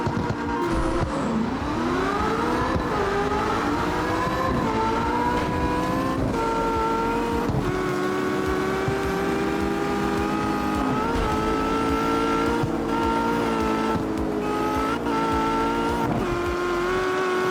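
Fast racing cars in the street-racing game CarX Street, with a loud, continuous engine drone that climbs and shifts through gears, pitch rising and dipping as the car accelerates, heard alone without talk.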